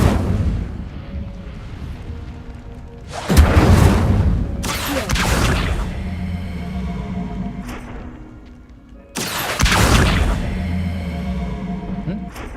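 Incendio fire spell cast in the game Hogwarts Legacy: two loud, sharp whooshing bursts of flame, the first a pair of quick blasts and the second a longer roar, over a soft low game ambience with murmured talk.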